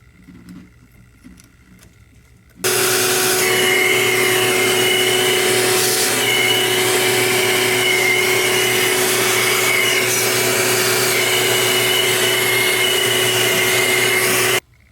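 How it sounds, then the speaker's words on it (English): A vacuum cleaner sucks leftover gasket bits from a GM throttle body. It switches on abruptly after a quiet start, then runs as a loud steady roaring hum with a whine for about twelve seconds before cutting off. "I used the vacuum to pretty much suck all of the excess gasket bits out"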